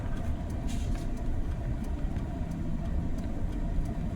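A John Deere 4440 tractor engine drones steadily while driving, a loud, continuous low rumble with faint clicks above it, heard close with no talk.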